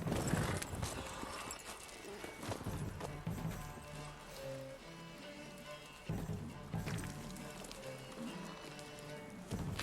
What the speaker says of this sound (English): that thing just is tearing apart a horse